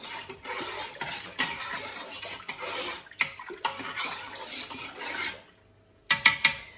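Live-culture yogurt being stirred into milk, giving a run of wet scraping and swishing strokes that stop briefly before a final burst of clinks and scrapes.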